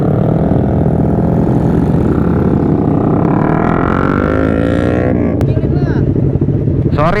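A two-stroke motorcycle engine runs close by, a loud buzzing idle with a rapid, steady pulse that rises briefly in pitch near the end, while someone talks over it.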